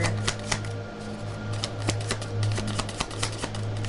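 Quick, crisp riffling of a deck of cards close by, a dense run of small clicks and taps over a low steady hum.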